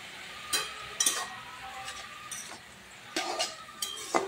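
Taro greens being stirred with salt and turmeric in a pan, with soft, intermittent scrapes and clinks of a utensil against the metal over a faint sizzle, quiet and close.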